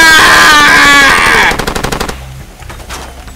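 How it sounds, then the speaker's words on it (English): Rapid automatic gunfire in the video game Far Cry 2 rattles loudly for about a second and a half as suppressing fire, then breaks into a few scattered, fading shots. "Suppressing fire!"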